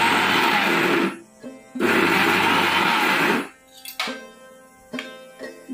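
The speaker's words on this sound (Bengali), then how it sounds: "এখানে আমি চিংড়ি মাছটা প্রথমে মেশিনে দিয়ে দিলাম, পেস্ট করে নেব।" Mixer grinder blending raw prawns into a paste: two loud, whirring bursts of the motor, each lasting over a second, separated by a short pause, then the clatter of the jar and lid being handled.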